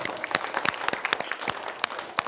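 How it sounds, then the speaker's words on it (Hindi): Applause in a school prayer-assembly session, a quick scatter of hand claps across a group, moderately loud and uneven, alone without talk. "जोरदार ताली।"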